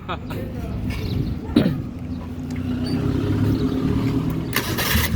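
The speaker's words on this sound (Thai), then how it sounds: "โอ้สตาร์ทติดง่ายมากเลย" A car engine fitted to a homemade classic three-wheeler with a motorcycle carburettor cranks and catches, then settles into a steady mid-pitched idle, with people talking nearby over it.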